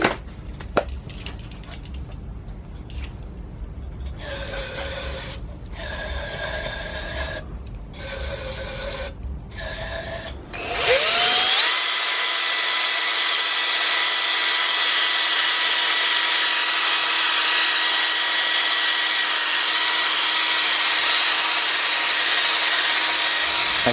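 Scraping, rasping strokes in short bursts, then a power drill with a brush spins up cleaning carbon from an engine intake port, running steadily at a high whine, close and loud.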